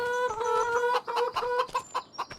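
Free-range chickens in Farming Simulator 25 on an American farm, several hens clucking close by in quick, irregular bursts that overlap one another, loud and clear with no voices over them.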